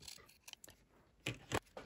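Scissors snip through polyester batting in a few quick, quiet crunchy cuts. Sparse softer clicks lead into two louder snips near the end, with no voices.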